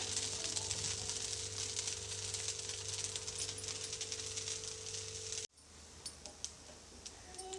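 A masala dosa cooks in a tablespoon of oil on a hot pan, giving a steady bright sizzle that drops off sharply partway through into faint crackles and ticks.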